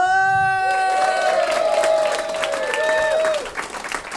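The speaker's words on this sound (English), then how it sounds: "give a huge round of applause for Professor Chad the Bug." A crowd claps and cheers loudly over a bright, sustained musical tone, the applause rolling steadily before tapering off near the end.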